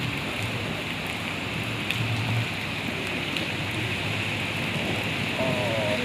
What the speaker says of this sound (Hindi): बारिश जो है ना उड़ उड़ के हवा के साथ इधर पड़ रही है।